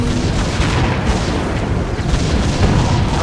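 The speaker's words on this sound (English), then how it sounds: "that little cannon at the end there, although not upgraded, played its part" Cannon tower firing at aliens in the Defense Grid strategy game, dense continuous booming and rumbling explosions with no distinct gaps, loud and close, filling the whole moment.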